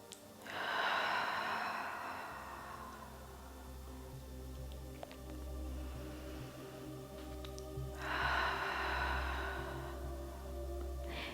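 Deep breathing during a Pilates exercise: two long, loud, close breaths with a gentle hum between them, no talking.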